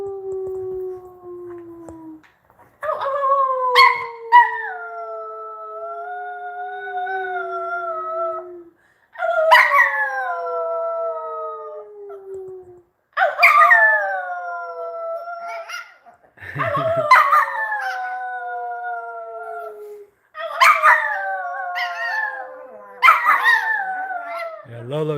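Dog named Lolo howling in long drawn-out wails, about six gliding howls separated by short pauses and broken by yips and barks, loud and close.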